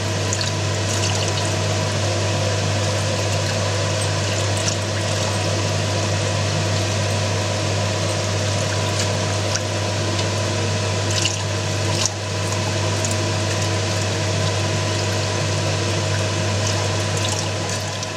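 Cold milk is poured into a béchamel sauce for meat cannelloni while it is stirred. A continuous wet trickle and squishing sit over a steady low hum, with no speech.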